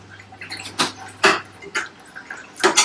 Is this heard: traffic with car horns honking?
no